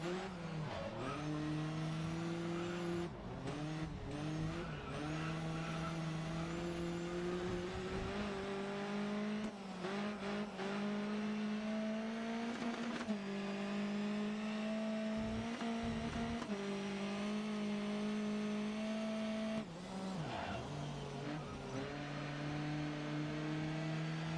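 Race car in GRID Autosport driven with manual gears, engine droning steadily and loud throughout, with repeated gear changes dropping and climbing the pitch and occasional brief tire squeal.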